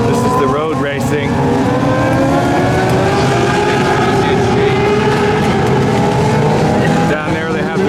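Engines roar continuously from road racing at Mid Ohio, heard from a distant hillside vantage point, with shifting pitches as cars accelerate and pass, sustained and fairly loud throughout.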